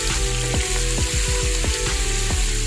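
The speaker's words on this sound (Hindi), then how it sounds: "अब हमने इसमें डालना है अदरक और लहसुन का पेस्ट और साथ ही सब्ज़ मिर्चें। अच्छे तरीके से भून लेना है" Ginger garlic paste and green chillies fry in a pan for a black chickpea pulao, giving a steady sizzle broken by several sharp spatula scrapes and stirring strokes, close and without talk.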